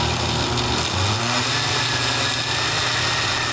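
A kitchen blender runs on its liquefy setting with pancake batter of flour and milk, a loud, steady high-pitched motor whine with a churning drone underneath, constant for the whole stretch and unaccompanied by talk.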